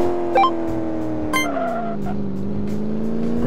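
Rebuilt stock engine in Car Mechanic Simulator 2015 pulling down a drag strip: a steady, loud engine drone climbs and shifts pitch through the gears, with faint tire chirps, no talking.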